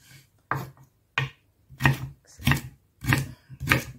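A knife chops food into small sticks on a cutting board, giving seven crisp, close taps at an uneven, quick rhythm with short pauses between them, and no voices.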